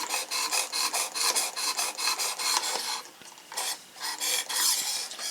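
A knife blade strokes back and forth across a Work Sharp Precision Adjust sharpening stone in a steady rhythm of rasping scrapes, close and fairly quiet, with a brief pause midway.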